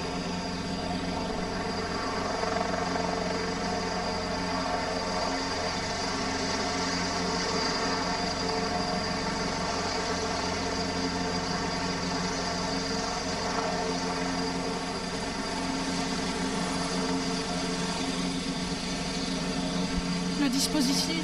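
A Caracal helicopter of a French special forces regiment flies overhead, a continuous, dense rotor and turbine drone holding steady and loud throughout with no pauses.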